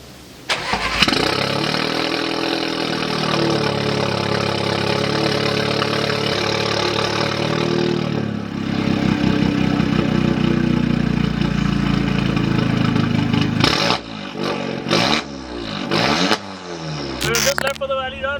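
Car engine cold start on a drag-racing car at Aamby Valley: the engine catches and settles into a loud, steady idle, then revs harder mid-clip before several sharp blips near the end, with voices in the background.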